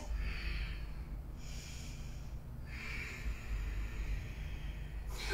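Slow deep breaths during a vinyasa yoga session, with about three long airy inhales and exhales rising and falling in steady rhythm, close and continuous with no talking.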